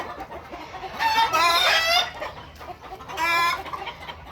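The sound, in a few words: Sonali chickens clucking on a layer farm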